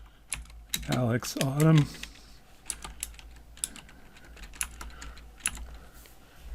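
Keys clatter on a computer keyboard in a burst of typing, close and fairly quiet, following a brief stretch of a person talking at the start.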